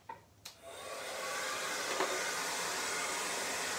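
A hair dryer blows over a freshly poured glass pane for a picture frame. A couple of clicks and a quick rising whoosh lead into a loud, steady, airy roar that runs on with no talking.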